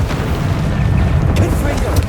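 Fire spell cast in the Hogwarts Legacy video game: a dense, roaring burst of low rumbling flame that stays loud and steady for about two seconds, with crackling texture on top.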